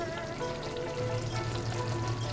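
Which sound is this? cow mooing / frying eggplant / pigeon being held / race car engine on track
frying eggplant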